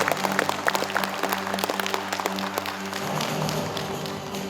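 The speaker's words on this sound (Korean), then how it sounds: "소개가 될 때마다 역시 큰 박수로 맞이해 주시길 바라겠습니다." A crowd applauding steadily at an awards ceremony, dense clapping that carries on throughout at a moderate distance, with no voices over it.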